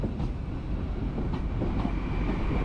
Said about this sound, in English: 800/3 GWR bi-mode Hitachi IET.